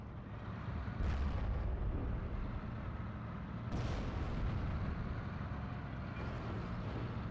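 Artillery fire booms in the Endless War: The Ultimate Battle strategy game, with a 105 gun shooting amid battlefield rumble; two heavier blasts stand out over a continuous low, noisy din.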